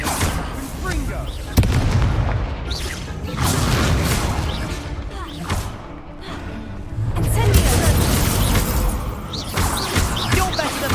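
A Confringo explosion spell going off in the video game Hogwarts Legacy, a sharp blast followed by booming crashes and rumbling combat noise over about eleven seconds, with voices calling out among the impacts.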